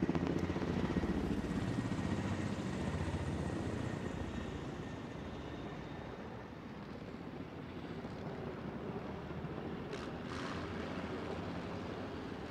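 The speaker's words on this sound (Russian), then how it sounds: "вот они, вертолеты, наши боевые вертолеты Ми-35М и К-52" Mi-35M and Ka-52 Alligator military attack helicopters flying at an army forum display, a steady rotor and engine drone at middle distance that fades slightly and then holds, with no talk.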